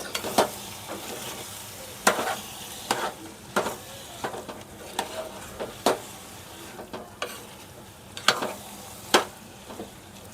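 Prawn pulao masala fries in a pan with a constant loud sizzle, punctuated by regular scraping strokes of a spatula every second or so, close up and without voices.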